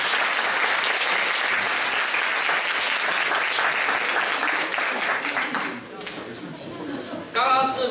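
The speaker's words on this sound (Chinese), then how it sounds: "给这四位一个掌声。" An indoor audience applauds four people after a first-aid stretcher-carrying demonstration, a steady dense clapping that swells, thins toward the end and then gives way to a voice speaking.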